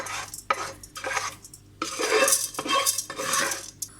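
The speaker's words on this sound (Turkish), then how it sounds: "arpa şehriyeleri bir kaseye alalım" Metal spoon scrapes and clinks against a pan and bowl in a few short bursts, with soft rustling of dry toasted orzo being scooped.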